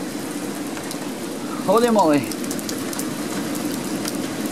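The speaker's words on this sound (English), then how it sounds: "And it is raining" Steady rain falls outside, a constant hiss that runs throughout, while a voice briefly exclaims partway through.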